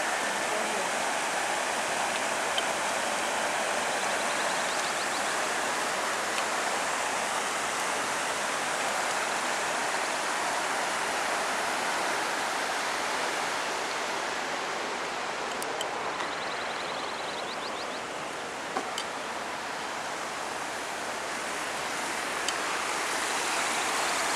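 A clear mountain river in the Picos de Europa of Asturias rushes over stones, a dense and steady wash of water heard close and loud for the whole stretch, with no talk over it.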